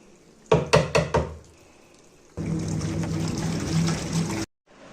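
A washing machine at home: a few quick knocks and clunks, then a loud, steady rush of water filling the drum for about two seconds before it cuts off abruptly.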